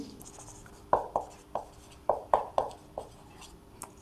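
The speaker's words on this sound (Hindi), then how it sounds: "तो हम लिखेंगे" Chalk or marker strokes on a board during a maths class, a run of sharp, distinct taps and scratches in uneven rhythm, close and fairly loud, with no talking.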